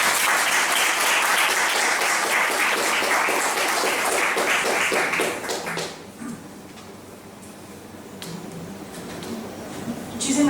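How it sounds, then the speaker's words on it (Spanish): An audience at a law symposium applauds a speaker being introduced, with dense, steady clapping for about six seconds that then thins out and fades into quieter room noise. "les demos un aplauso a la maestra Alejandra Macías Estrella"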